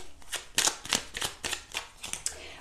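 Tarot cards being drawn and handled near the microphone: a quick series of about eight crisp papery flicks and slides in a fairly even rhythm, with no one talking.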